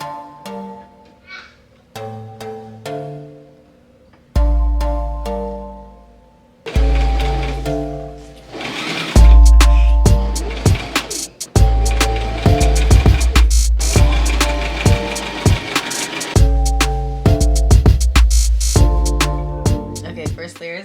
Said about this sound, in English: Let the stitching begin.